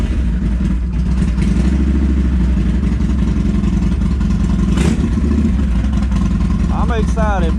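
Motorcycle engine running steadily on a ride, with a throaty low drone throughout and a brief rev swell near the end; a voice speaks briefly at the close.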